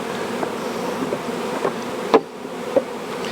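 Honeybees buzzing steadily around an opened hive during a colony split, a dense close insect drone with a few soft knocks and clicks of hive equipment, no talking.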